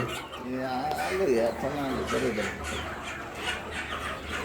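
Country chickens on a poultry farm in Kalasapadu mandal cluck in short, repeated bursts close by, with a faint crow-like call, while people talk alongside throughout.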